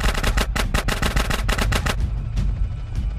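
Two guns fire at once in GTA San Andreas, a rapid, loud burst of shots in close succession for about two seconds, then a single trailing shot and fading echo.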